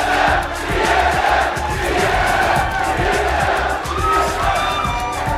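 A large esports arena crowd at PAX Prime 2013 roars and cheers continuously, with rhythmic chanting and thumping beats underneath, loud and energetic.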